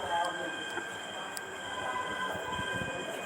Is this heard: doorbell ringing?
no